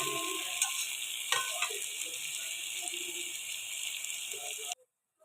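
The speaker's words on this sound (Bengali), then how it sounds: "পেঁয়াজটা একটু ভাজা হয়ে এলে টমেটোটা দিয়ে দেবো।" Chopped onion frying in a pan while cooking a red mutton curry, giving a steady close sizzle with a few clinks and stirring scrapes, then cutting off abruptly near the end.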